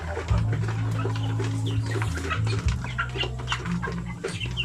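Breeder hens clucking in a flock, with a steady low murmur of overlapping clucks and occasional sharper calls nearby.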